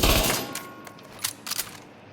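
Gunfire in the shooter game The Division 2: a few sharp shots at moderate loudness after a noisy start, with scattered bursts near the end and no talk.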